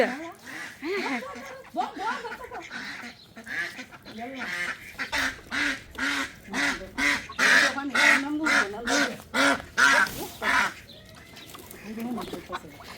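A flock of ducks quacks repeatedly in loud, rhythmic bursts close by, calls overlapping and continuing throughout.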